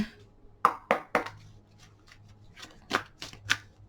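Brand-new oracle card deck shuffled by hand in several quick riffling bursts, close and crisp, with short pauses between; no one speaks.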